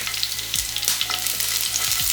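Garlic and slit green chillies fry in oil for gobi Manchurian, making a loud, dense sizzle with constant crackling spatter and a low rhythmic clatter underneath.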